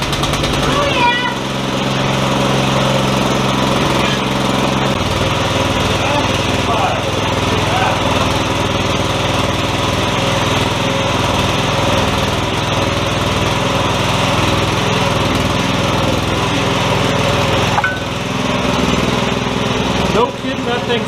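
A pull-start small engine on a rat rod T-bucket go kart fires up and runs steadily at a loud, buzzing, lawnmower-like pitch, with people talking over it throughout.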